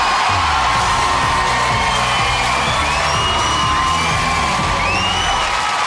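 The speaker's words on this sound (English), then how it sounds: "give her a huge round of applause" A TV talent show studio audience cheers and applauds for a singer leaving the stage, loud continuous crowd roar with whoops and shouts throughout, close and dense, with no clear speech.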